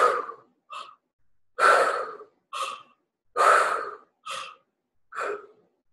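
Slow, deep breaths during a guided energy-medicine meditation, seven separate inhales and exhales spaced a second or so apart, close and clear against silence, with no talking.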